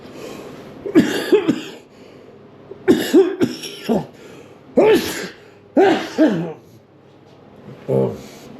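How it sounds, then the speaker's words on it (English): Several harsh coughs come in separate bursts, spaced a second or two apart, close to the listener, with a final throaty cough at the end. "We got a bit of a cough situation here going on."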